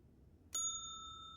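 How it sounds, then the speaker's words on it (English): A hotel front desk bell in a game is struck once, giving a bright metallic ding that rings on and slowly fades after a quiet start, with no voices. "No hotel front desk is complete without a bell."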